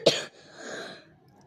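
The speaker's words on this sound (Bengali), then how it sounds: "আমার একটু কাশি হয়েছে।" A single sharp cough bursts out close and loud at the start, followed by a fading rasp and near quiet, with another abrupt onset at the very end.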